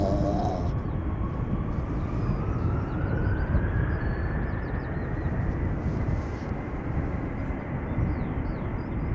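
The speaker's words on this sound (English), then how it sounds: "there's an Embraer 190 behind it, going to Hamburg" An Embraer 190 airliner bound for Hamburg at Schiphol Airport passes with a steady, broad jet roar, loud and continuous, with a faint rising whine and no voices.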